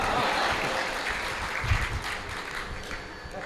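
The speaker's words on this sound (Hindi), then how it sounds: "और तालियां तो इस बात पर बजाइएगा" Audience at a Hindi comic poetry gathering (hasya kavi sammelan) claps steadily, a dense even wash of applause from a crowd, continuous and fairly loud with no talking over it.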